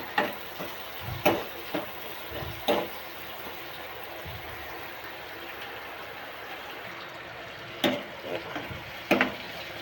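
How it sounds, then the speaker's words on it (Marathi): Onion and tomato fry in a pan, with a steady soft sizzle and scattered stirring clatters and scrapes, no talking. "कांदा टमाटा चांगला भाजून घेऊया."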